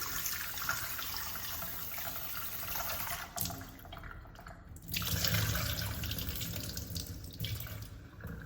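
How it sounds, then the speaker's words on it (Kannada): Rice is rinsed under a running kitchen tap, with a steady rush of water, splashing and sloshing shifts in the middle, and no talk over it. "ನಾನು ರೈಸನ್ನು 2 ಸಲ ಚೆನ್ನಾಗಿ ವಾಶ್ ಮಾಡ್ಕೊಳ್ತಿದ್ದೀನಿ."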